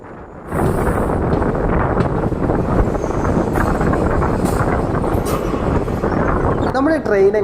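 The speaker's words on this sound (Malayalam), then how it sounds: "നമ്മുടെ ട്രെയിൻ എങ്ങനെ അപ്പോൾ ശ്രാവണന്നൂർ എന്ന റെയിൽവേ സ്റ്റേഷനിലോട്ടാണ് ഇപ്പോൾ എത്തിക്കൊണ്ടിരിക്കുന്നത്" The Yesvantpur–Mysore express rolls into Shravanur station with a steady low rumble and rattle heard from on board, buffeted by wind noise, and a voice briefly comes through near the end.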